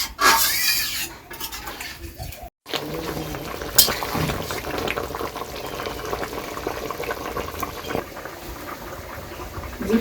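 Water poured into a pan of sautéed vegetables in a village kitchen during the rainy season in Bangladesh, a steady bubbling, hissing wash that runs throughout after a brief silent break, with occasional clatters close by.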